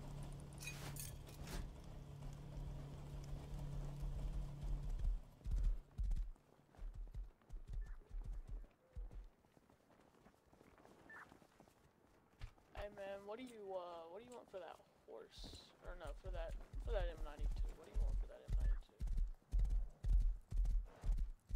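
Rhythmic hoof clopping of a stallion in a video game, starting and stopping in bursts, with a horse whinny partway through and people talking over it.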